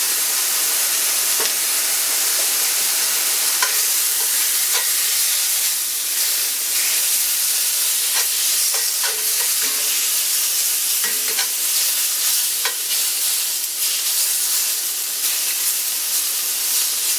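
Pork stir-frying for yakisoba in a cast iron pan gives a steady, close sizzle and hiss, broken by scattered clicks and scrapes of stirring, with no talking.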